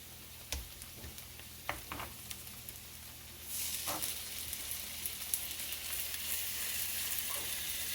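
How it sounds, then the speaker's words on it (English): Pork bones sizzle in extra virgin olive oil in a frying pan, a steady hiss that swells louder partway through, with a few soft clicks and stirring taps and no talking. "In a separate frying pan, I'm going to add a little bit of extra virgin olive oil. And I'm going to cook these pork bones 2/3 through."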